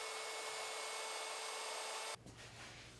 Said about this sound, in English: run the router back over it